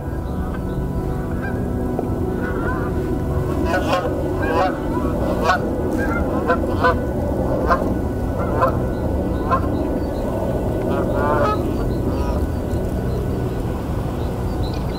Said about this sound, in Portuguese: Com o cair da noite, bandos de gansos se dirigem para seus abrigos nos prados salgados.